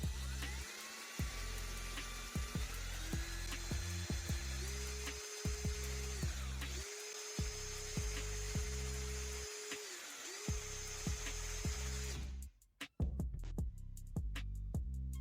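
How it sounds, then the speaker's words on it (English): A drill bores a hole through a metal GoPro thumb screw, its motor whining in a sustained high tone with several brief pauses and restarts, ending in a short burst of sharp clicks. "I attach it to the GoPro by drilling a hole into the thumb screw."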